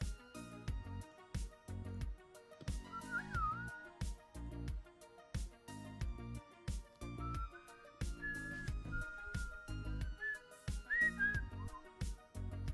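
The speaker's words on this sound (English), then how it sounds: "I think my whistles are noise." A person whistles a few short melodic phrases, faint and thin over a louder rhythmic backing of game music with steady beats.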